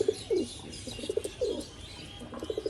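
A pair of Oman teddy pigeons of the Cobra bloodline, male and female, giving repeated soft throaty coos in short close bursts with small gaps, along with faint chirps and rustling.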